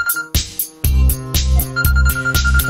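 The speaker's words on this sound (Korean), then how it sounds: "전화가 왔어." A bright electronic phone ringtone plays a repeating melodic pattern, loud and close, with no talking.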